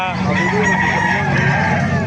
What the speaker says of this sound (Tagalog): manok yun dito